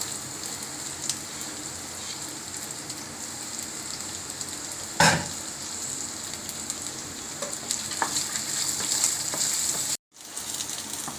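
Sliced onions sizzle in hot oil for a curry leaf chutney, a steady crackling fry close up, with one sharp clank partway through and a sudden cut near the end.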